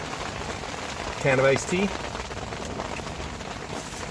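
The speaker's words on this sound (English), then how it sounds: "It's raining pretty hard." Heavy rain falls in a steady, even hiss throughout, while someone speaks briefly close by over the downpour.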